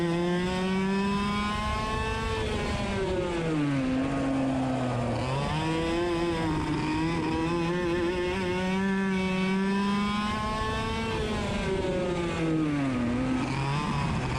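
Racing go-karts scream past on a track, a dense overlapping drone of small high-revving engines with pitch sweeping up and down as they accelerate and brake, loud and continuous with no talking.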